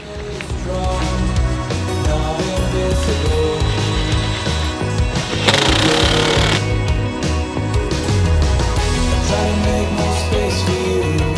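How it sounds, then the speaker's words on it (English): Power driver sinking screws to anchor boards inside an RV during dry-rot repair, a loud continuous whirring, rattling drive with a harsher burst midway, heard close and steady with no talk. "We're going to anchor this down with some screws"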